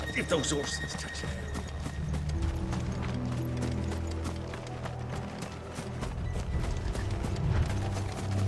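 Horses' hooves clip-clop at a running pace in the video game Final Fantasy XVI, a steady rhythmic patter under a music score and scattered voices, with a brief whinny near the start.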